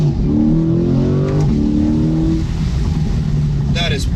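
A Chevrolet C8 Corvette engine revs hard and climbs through gears with quick, abrupt shifts, loud and close from inside the car, while a voice speaks briefly.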